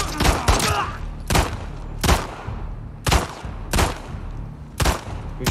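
Gunfire in The Last of Us Part 2, a volley of loud, sharp shots cracking out in uneven bursts about once a second, the opening ones packed close together, with a low rumble hanging beneath.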